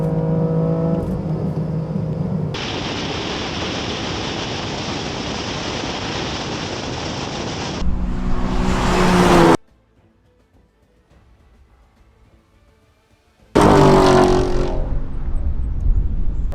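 Cars accelerating hard in a drag and roll race between a BMW F80 M3 Competition with DCT, an LT1 Camaro with a 10-speed automatic and a Challenger 392 T/A with an 8-speed automatic, a loud sustained roar, then engine surges with a quiet gap between them.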